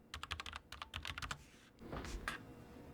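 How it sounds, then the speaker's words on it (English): Quick bursts of keystrokes on a Logitech MX Mechanical Mini keyboard with brown switches, crisp, close clacks in rapid clusters, then a couple of slower presses, with no talking. "I'm using the Logitech MX Mechanical Mini. The typing experience has been pleasant."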